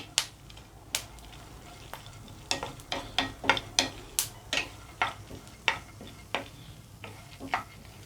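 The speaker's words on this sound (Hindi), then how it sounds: "देखिए ये सीड्स भी भुन गए हैं" Flax seeds and other ingredients dry-roast in a pan over a slow flame, sounding as a quiet, irregular series of sharp scraping stir strokes and ticks over a faint background.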